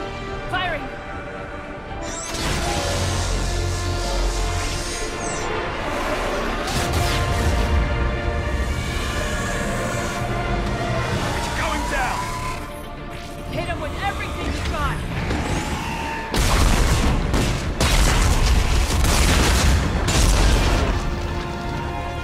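Heavy booming blasts from a missile battery firing in the video game Mass Effect 3, landing as loud repeated detonations over a dense battle din, with game dialogue and effects layered throughout.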